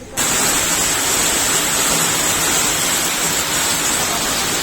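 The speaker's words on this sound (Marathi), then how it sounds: "एवढ्या पावसाच्या जोरामध्ये सुद्धा एवढा पाऊस जास्तीचा पडत असताना सुद्धा" Heavy monsoon rain pours down steadily over an outdoor construction site where work continues, making a dense, unbroken hiss that stays close and loud for the whole stretch with no voices.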